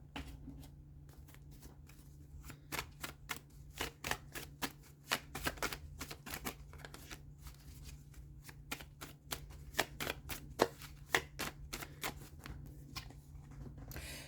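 Tarot cards are shuffled by hand in a long run of quick, crisp riffling snaps and flutters, fairly faint over a low steady hum.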